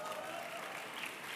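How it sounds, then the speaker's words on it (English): Audience applause at a graduation ceremony, a dense, continuous patter of many hands clapping at moderate distance, faint and steady for a brief moment. "Let's give them a round of applause."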